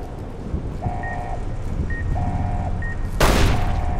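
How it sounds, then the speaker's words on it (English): Repeated electronic beeping in the Sierra Madre add-on of Fallout: New Vegas, a steady two-tone pattern pulsing every second or so over low rumbling game ambience, with a sudden loud burst partway through. "There's the beeping."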